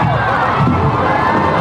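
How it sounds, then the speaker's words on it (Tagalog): Dense, loud crowd cheering and screaming along Session Road as a parade float passes, a continuous roar of many voices up close. "Lumalakas ang hiyawan dito sa Ayun. Session Road."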